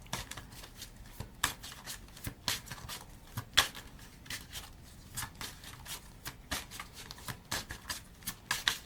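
Tarot and oracle cards are shuffled by hand in a quiet room, a series of quick papery riffles and soft slaps repeating irregularly, close and clear with no talking.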